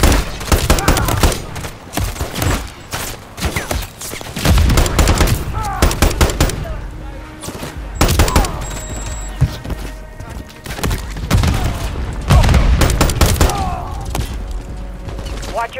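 Call of Duty Modern Warfare III gunfire: dense, loud bursts of automatic fire and rapid shots continue almost without a break, joined by explosions, game noise and voices talking over the action.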